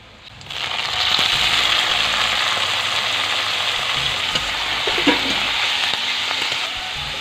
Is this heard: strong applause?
no